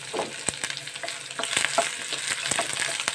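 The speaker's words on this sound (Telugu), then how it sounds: "ఒక చిన్న సైజు ఆనియన్ కట్ చేసుకుని అది కూడా వేయించుకోవాలి." A small chopped onion fries in a pan with cloves for coconut biryani, giving a steady close sizzle broken by sharp clicks and scrapes of stirring, with no voices.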